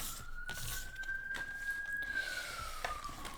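A distant police siren wails in one slow rising and falling sweep, faint and steady over background hum, with no talk.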